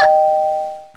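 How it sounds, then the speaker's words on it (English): A doorbell rings with a single loud, sustained electronic tone that slowly fades over about a second, heard alone at close range. "It won't stop ringing the doorbell!"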